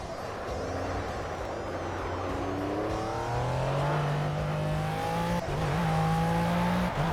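Race car engine in Project Cars, one car droning steadily and then climbing through rising revs with gear changes, loud and close, with no voices.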